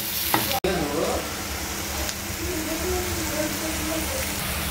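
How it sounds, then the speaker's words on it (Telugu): Red radish curry with salt is stirred in a pan over a steady, rain-like sizzle, with an early sharp knock of the utensil and occasional scraping, close and moderately loud. "కొంచెం సాల్ట్ వేసుకొని కలుపుకోవాలి"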